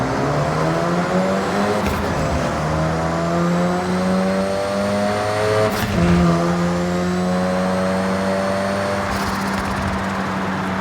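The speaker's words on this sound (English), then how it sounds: "it has a cool turbo sound, but the exhaust tone is just like very generic 4-cylinder" A Ford 2.3-litre EcoBoost four-cylinder engine with turbo, driven in a Forza Horizon video game, revs hard and loud through several rising gear pulls, a steady close drone throughout with no talking.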